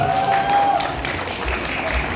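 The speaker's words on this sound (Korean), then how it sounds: "큰 박수 부탁드리겠습니다." Applause from wedding guests greets a singer introduced to perform at a Korean wedding ceremony, a short burst of clapping in a hall over an amplified tone and a host's voice.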